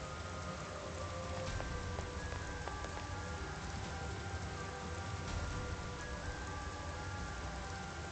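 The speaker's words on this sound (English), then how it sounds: "It just started pouring all of a sudden." Heavy rain pours down in the Land of Rain area of the video game Persona 5 Strikers, a dense, continuous wash of falling water with scattered faint drips and tones, steady throughout and free of speech.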